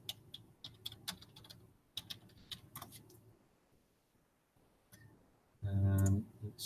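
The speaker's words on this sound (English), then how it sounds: "So just typing date." Computer keyboard keys click in quick, uneven bursts at close range, fading to near silence before a short louder noise near the end.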